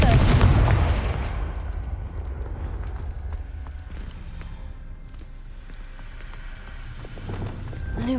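Confringo fire spell blasts in Hogwarts Legacy, a loud booming explosion up front that rumbles and fades into a long low roar, with a second thump near the end.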